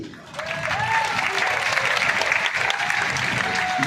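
Audience applause fills a large devotional gathering at Bageshwar Dham's Divya Darbar, a dense, steady wash of clapping that swells quickly after a brief quieter start and holds loud throughout, with faint voices and tones mixed in.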